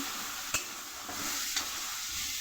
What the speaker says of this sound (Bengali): একসাথে ভাজা হোক। অল্প একটু টমেটো ছিল, সেটাও দিয়ে দিলাম।